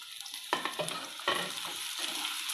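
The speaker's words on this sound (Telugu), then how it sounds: "ఇవి కొంచెం ఫ్రై అవ్వాలి." Garlic, ginger and tomatoes fry in a pan for prawn biryani, giving a steady, close sizzle broken by a few sharp scraping stirs.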